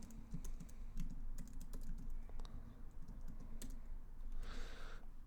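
Quick keystrokes on a computer keyboard while entering text into a Canva design, a steady run of light, close clicks with a brief pause and a denser burst near the end.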